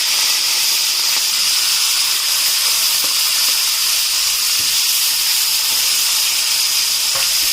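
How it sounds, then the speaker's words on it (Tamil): Curry leaves splutter in hot oil, sizzling loudly and continuously, with sharp little pops and crackles scattered through the steady hiss. "ஃபர்ஸ்ட் கருவேப்பிலை சேர்த்துறேன். தெரிக்கும்."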